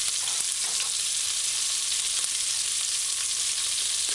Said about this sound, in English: So do as you see me doing and kind of mash your fried garlic.